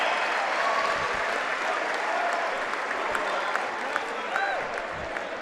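Crowd at an NCAA men's basketball second-round game between Swarthmore and Ithaca cheers and claps steadily during a timeout, a dense continuous roar of applause with scattered whistles and shouts, fairly distant.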